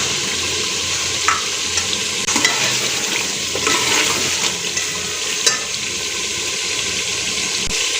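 Tomatoes frying with ginger garlic paste in a pan while being stirred, with a soft continuous sizzle and occasional scraping clatters of the spoon close by, and no voice.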